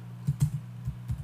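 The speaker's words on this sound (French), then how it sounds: "on va le taper à la calculatrice" Numbers are tapped into a calculator: a handful of quick, light plastic key presses in an irregular rhythm, close and clear over a quiet background.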